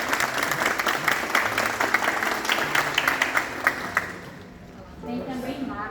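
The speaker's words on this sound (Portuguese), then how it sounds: "eu gostaria que todos dessem uma salva de palmas" An audience claps steadily for several seconds, the applause fading out near the end.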